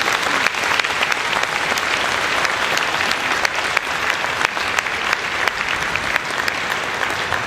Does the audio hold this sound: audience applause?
yes